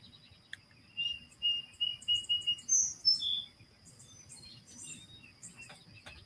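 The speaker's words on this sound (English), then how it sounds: "there were a couple of birds in this tree right here fighting over nesting material." Birds chirp in a tree while fighting over nesting material, a quick run of about a dozen bright, rhythmic tweets followed by a few scattered calls over a faint insect background.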